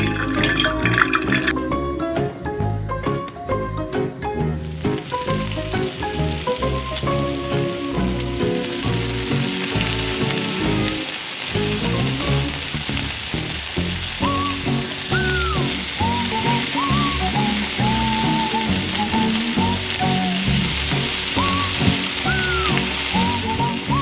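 Steady loud sizzle of fish frying in oil in a tiny miniature kitchen, crackling and popping without pause, with occasional drips and a light tinkling melody running underneath.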